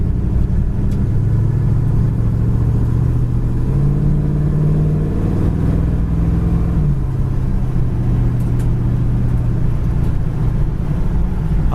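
A 1969 Chevy Camaro cruises down the road, its engine giving a steady low rumble with a slight rise in pitch midway, alongside constant road and wind noise heard from inside the car.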